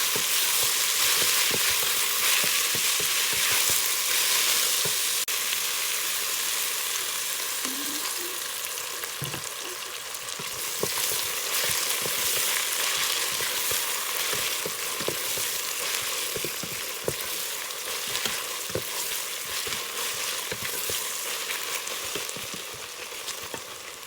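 Onions deep fry in a mix of ghee and oil for a chicken biryani, giving a steady, dense, loud crackling sizzle that runs without a break, with occasional faint scrapes and no speech.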